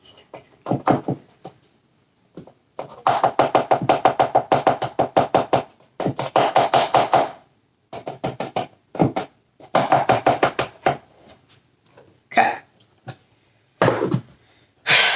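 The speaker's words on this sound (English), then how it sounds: "I'm literally using a spoon because, like I said before, I don't have a mixer" A spoon stirring cake batter by hand in a bowl, giving fast rhythmic tapping and scraping in bursts of a second or two, separated by short pauses, close and fairly loud.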